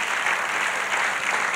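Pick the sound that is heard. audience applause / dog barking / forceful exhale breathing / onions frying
audience applause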